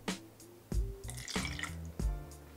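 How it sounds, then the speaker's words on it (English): Clyde May's Alabama style whiskey is poured into a cocktail shaker over muddled ingredients, giving several close, irregular splashes and drips in short bursts, with no talk. "pour 2 ounces of Clyde May's Alabama style whiskey"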